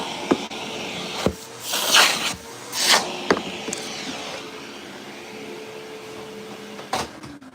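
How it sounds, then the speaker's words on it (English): A cordless shop vacuum runs in a woodworking shop while a cutting board is being finished, a steady moderate hum broken by several loud, brief sucking surges as debris is pulled up. "I can have a conversation with you while I use my shop vac"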